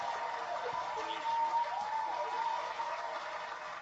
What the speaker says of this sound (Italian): Simone sta cercando gli applausi da farti.